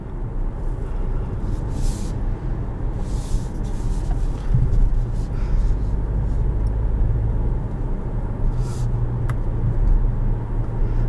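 The 2.4 engine of a 2021 Jeep Compass Limited runs with a low, throaty rumble heard from inside the cabin, steady and fairly loud with slight swells under road noise.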